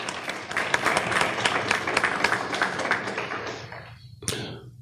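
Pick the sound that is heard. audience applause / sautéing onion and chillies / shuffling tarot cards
audience applause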